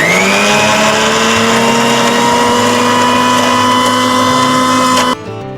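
A kitchen grinder blends coriander leaves into paste, running loud and steady with a high motor whine for about five seconds before it cuts off abruptly.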